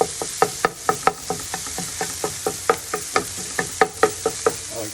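Sausage fries in a pan for a breakfast of biscuits and sausage gravy, giving a steady bright sizzle. Close, regular scraping taps from stirring run through the sizzle at roughly four per second.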